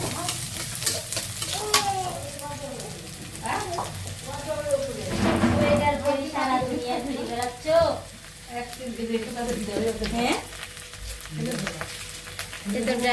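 Vegetables and sundried lentil dumplings (bori) sizzling and being stirred in hot oil in a home kitchen, a steady crackling fry with scraping and clattering, while people talk over it throughout.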